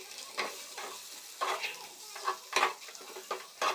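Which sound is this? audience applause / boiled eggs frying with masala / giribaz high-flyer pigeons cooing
boiled eggs frying with masala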